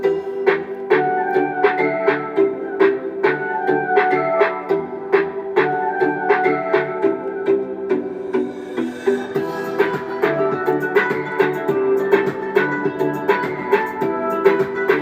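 Rhythmic music with a steady beat and repeating melodic notes plays continuously through the built-in speakers of an Acer 40-inch Google TV, at a moderate, fairly even volume with no voices.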